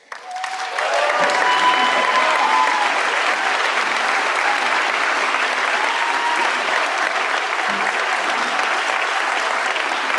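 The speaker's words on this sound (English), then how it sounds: "Please give these administrators and outstanding professors a round of applause" At a university graduation ceremony, the audience breaks into loud, sustained applause for the standing faculty and administrators, swelling in within the first second and then holding a thick, steady wash of clapping to the end.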